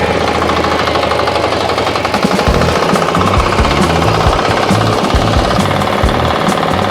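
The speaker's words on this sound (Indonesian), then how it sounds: "jenis mesin ini adalah jenis traktor roda 4 mini ya" Engine of a Firman FTI2010DE mini four-wheel tractor running steadily in a dry field, a loud, close, rapid knocking diesel chug with a dense mechanical rattle that stays constant throughout.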